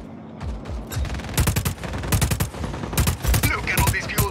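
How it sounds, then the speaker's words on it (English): Rapid bursts of gunfire in the video game Just Cause 4, loud and close, firing in several clusters of quick repeated shots with short pauses between them. "Pew pew. All bullets."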